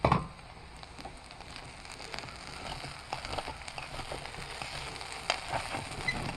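Hashbrowns sizzle and crackle in a hot pan as they are flipped over for a breakfast with eggs, a bright steady frying hiss with scattered pops and a soft clatter at the start.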